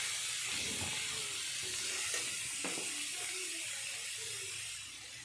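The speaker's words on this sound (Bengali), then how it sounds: "তারপর চাল কুমড়োগুলো ভালো করে ভাজবেন।" Ash gourd pieces frying in a pan for a curry with lentil dumplings give a steady, close hiss and sizzle that runs unbroken for several seconds, with faint stirring underneath, then eases slightly at the end.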